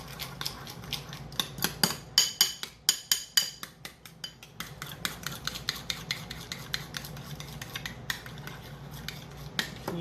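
A spoon stirs heaped sweetened condensed milk into milk for cold-start Instant Pot yogurt, giving fast, rhythmic scraping and clicking against the pot. The sound carries on steadily for the whole stretch, close and with no voices.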